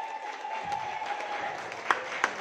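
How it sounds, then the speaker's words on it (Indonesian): An audience at a marketing plan presentation gives a round of applause, faint and distant, as a soft wash of clapping under a steady hum, with a couple of sharper claps near the end. "tepuk tangan untuk Bapak Ibu semua"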